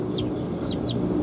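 Jungle fowl and village chickens cluck near an egg collection spot, with short rising chirps repeating over steady low farmyard noise.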